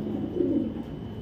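Brief low coo from a foreign-bloodline racing pigeon, a single soft throaty call heard close and alone.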